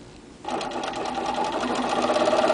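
A sewing machine runs a close satin stitch along the edge of a fusible appliqué fabric heart, starting after a brief quiet moment and then whirring continuously at steady speed.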